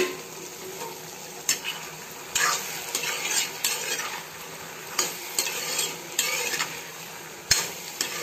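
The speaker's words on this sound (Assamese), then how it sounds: "ধৰি লওক মই 5 মিনিটমান সময় এই ধৰণে কেৰাহীত ভাজিলোঁ।" Banana-ash khar with bitter greens being fried in a wok, with the spatula repeatedly scraping and clanking against the metal in bursts over a soft background sizzle, close and fairly quiet, no talking.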